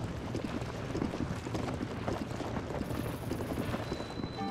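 A horse's hooves clip-clop in a steady trotting rhythm across ground in Zelda: Tears of the Kingdom, moderately quiet against a soft outdoor wind bed.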